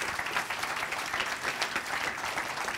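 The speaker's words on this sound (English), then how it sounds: "Give her a big round of applause." Audience applause at a motivational speaking session, a dense steady wash of many hands clapping close and continuous throughout, with no voices over it.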